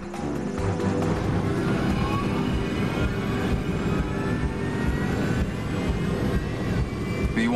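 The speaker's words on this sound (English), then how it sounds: "the sound of the engines is recorded in the background on the cockpit voice recorder" Jet engines of Air Florida Flight 90 captured on the cockpit voice recorder, a dense, steady roar with a droning hum running continuously and loudly throughout, with no voices over it.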